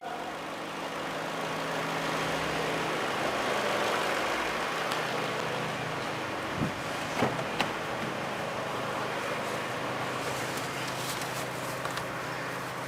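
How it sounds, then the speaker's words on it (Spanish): Car engine with direct or indirect fuel injection idling at low speed, a steady even hum with a couple of faint knocks midway and no talking. "alrededor de unos 10 segundos al ralentí"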